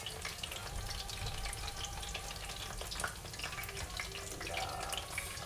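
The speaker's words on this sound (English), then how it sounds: "how do you know if the fish is finished frying?" Fish coated in tempura batter fries in hot oil for fish tacos, giving a steady, close crackling sizzle with bright popping spatters that runs the whole time, with no talking.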